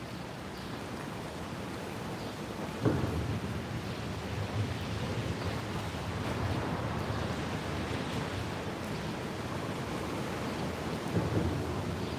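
Steady rain and wind wash over an outdoor spot beside railway tracks in Dalton, Georgia, with low rumbling thunder swelling in the background and a couple of louder gusts or rolls, no voices.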